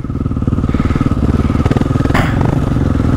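A motorcycle engine revving during a trick ride, close and loud, with a rapid pulsing beat and rises in pitch, plus a brief clattering burst near the end and no talk.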